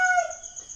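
A rooster's crow is caught near its end, one clear, strained, tapering call that fades out quickly.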